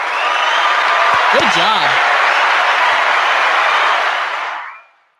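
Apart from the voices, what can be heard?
applause sound effect played on stream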